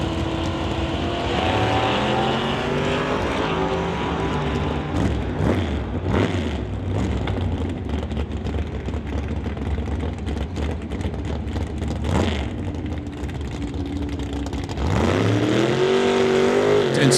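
At a drag racing event, a 1989 black Chevrolet S10 pickup in the non-electronics class roars loudly, its engine climbing through rising revs and gear changes, with another surge of acceleration near the end.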